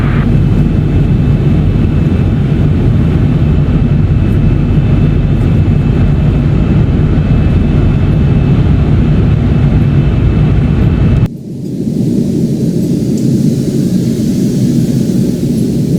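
An Airbus A330-900neo cruising in the Roblox video game on a Los Angeles to Las Vegas flight, heard as a loud, constant cabin drone that shifts abruptly to a thinner hum partway through. No voices are heard.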